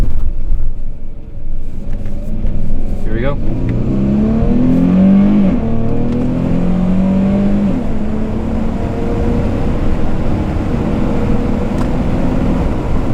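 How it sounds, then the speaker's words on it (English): A Dodge Challenger GT with all-wheel drive accelerates hard from a stoplight through a right turn. Its engine rumbles close and loud, climbing steadily in pitch, and a voice speaks briefly at the start. "I'm gonna make a right and open the car up now, so let's see how she performs"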